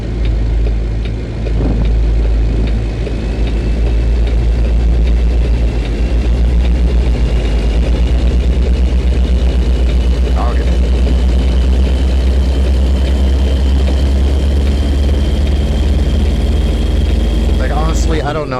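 A Kenworth W900 truck engine in American Truck Simulator drones steadily with a deep low rumble, hauling a silo on an Arizona highway, loud and continuous with someone talking over it at times.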